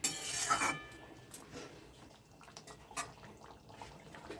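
Dal with raw papaya being stirred in a pot: a few soft metallic clinks and scrapes of a spoon against the pot, strongest at the start, then faint intermittent stirring and bubbling noise.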